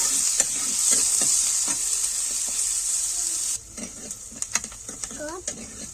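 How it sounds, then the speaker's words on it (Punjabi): Garlic and onions fry loudly in a pan for eggplant bharta, a bright hiss that suddenly drops away, followed by scraping and clinking strokes of a spoon stirring close up. "ਪਿਆਜ਼ਾਂ ਨੂੰ ਵੀ ਆਪਾਂ ਚੰਗੀ ਤਰ੍ਹਾਂ ਹਿਲਾ ਲੈਣਾ"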